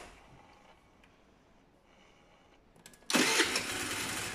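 A 50cc scooter engine cranks with a few faint clicks, then catches and starts, jumping abruptly into a loud, steady buzzing idle close by.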